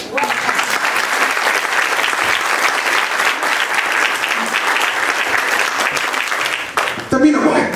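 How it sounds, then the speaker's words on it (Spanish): A church congregation claps loudly and steadily in sustained applause, the clapping ending with a short break before the room continues with voices and faint noise. "Dale un aplauso a Cristo."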